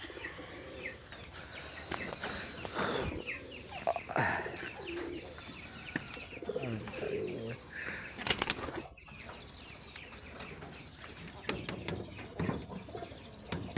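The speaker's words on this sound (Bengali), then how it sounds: "এই আমার কবুতরের খোপ।" Pigeons coo softly up close inside their coop with chicks, mixed with wing flaps and rustling, a few sharp knocks and clatters breaking in.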